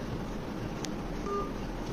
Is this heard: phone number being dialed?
yes